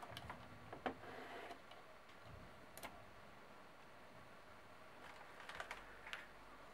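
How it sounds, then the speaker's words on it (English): Buttons on an ASUS ROG Gladius II gaming mouse give faint, scattered clicks, a few light taps close together, against a quiet background. "Which will light your mouse only when clicking buttons like this."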